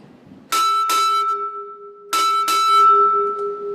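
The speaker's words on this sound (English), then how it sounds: "Sound 4 bells." A ship's bell rings four times in two quick pairs at a naval naming ceremony, each strike clear and ringing out with a long sustained tone.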